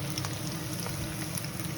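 Liver frying in a pan for lomi gives a soft, steady sizzle with faint crackling pops, heard close but at low level over a short moment.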